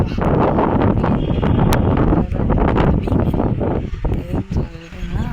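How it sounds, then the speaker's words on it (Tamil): Strong wind gusts through a village during the windy season, a loud continuous roar buffeting the microphone with rustling and flutter throughout. "காற்று அடிக்கிற காற்று பாருங்க, நிற்கும் கூட மாட்டேது."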